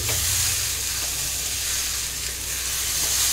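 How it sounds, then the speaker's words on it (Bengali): Jackfruit sautéing in a pan over a low flame for a dum pokht dish, giving a continuous close hissing sizzle with a soft low rumble underneath. "আরও 2 মিনিট এরকম লো ফ্লেমে একটু কষতে থাকবে।"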